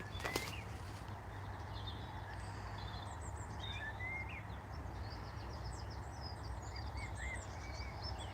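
A song thrush sings short chirping phrases again and again, faint and distant over a low outdoor hum, with a single sharp knock near the start.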